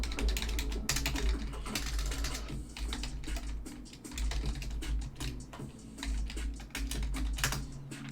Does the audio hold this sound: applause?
no